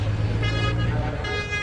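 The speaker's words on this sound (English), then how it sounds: "Air horn sound as the drivers celebrate." An air horn sounds at Snetterton race track as drivers celebrate, giving a steady, sustained low tone with higher harmonics over constant background noise.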